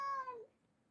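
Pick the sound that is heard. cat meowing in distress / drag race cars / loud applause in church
cat meowing in distress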